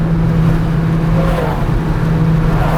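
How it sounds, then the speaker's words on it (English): An Audi B5 S4 pulls away hard from a brake-boost launch, a loud, steady engine roar held close and continuous with little change in pitch. "45 mile per hour brake boost."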